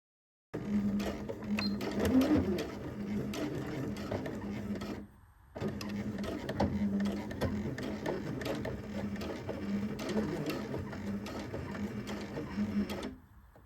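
A sewing machine runs steadily, stitching a dart in garment fabric, with a brief pause partway through before the motor starts again; the close mechanical whir carries on alone with no talking.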